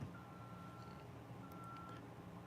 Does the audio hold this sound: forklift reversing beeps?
yes